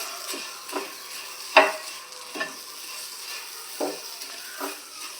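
Flattened rice (aval) is stirred in melted ghee in a pan, giving a soft, quiet sizzle broken by several distinct scraping strokes of the spoon, one sharper clink standing out.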